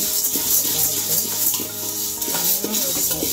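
Spices and lentils dry-roast in a pan for homemade sambar powder, giving close, steady stirring scrapes over a soft crackle and sizzle of popping seeds.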